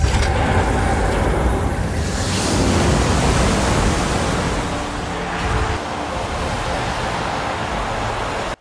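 Water gushing out in a scene from the film Mad Max: Fury Road, a loud broad continuous rush like surf or a waterfall, steady throughout and cutting off abruptly at the end.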